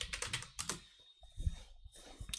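Computer keyboard typing as a new script is named in a Godot game-engine tutorial, a quick close burst of keystrokes, a pause with a soft thump, then a few more taps, alone without talk.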